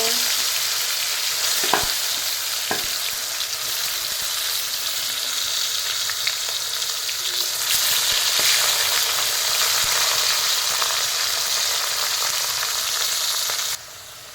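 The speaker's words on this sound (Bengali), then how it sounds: "এবার আলুটা ভেজে নেব।" Potatoes frying in hot oil in a pan, a loud, continuous close sizzle with a few faint knocks of stirring, ending abruptly near the end, with no talk.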